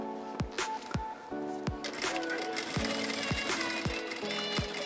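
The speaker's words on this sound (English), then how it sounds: "I'm pulling on the fabric and making sure that the presser foot is right against the brim." A sewing machine stitches the brim of a fabric baseball hat with a steady, close mechanical whir, punctuated by a series of sharp regular knocks from the machine.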